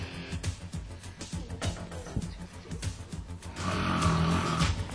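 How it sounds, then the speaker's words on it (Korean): Loud, rough snoring and heavy, ragged breathing from a person asleep and tossing in bed at night, sounding close with repeated cycles and a denser, louder stretch near the end. "코를 골면서 몸을 계속 뒤척이고 또 거친 숨소리까지 몰아쳤습니다"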